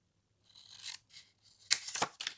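Scissors snipping through design paper up to a fold for a paper pouch, a few short, crisp close cuts in two bursts separated by quiet, with no talk.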